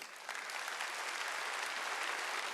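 A church congregation at a Sunday service applauding together, a dense steady wash of clapping from many hands heard at moderate distance, without speech.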